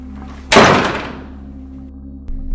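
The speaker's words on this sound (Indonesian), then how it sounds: "Tiba-tiba pintu kamar belakang tertutup sendiri dengan keras." A back bedroom door slams shut hard on its own, one loud single bang that rings and fades slowly over a quiet background hum, with a small knock after.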